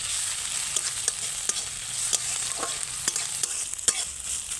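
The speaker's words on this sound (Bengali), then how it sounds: "এবারে আমি এগুলোকে ভালো করে ভেজে নিচ্ছি" Green chillies fry in a pan with a constant close hiss of oil, broken by scattered scrapes and taps as they are stirred, with no voices.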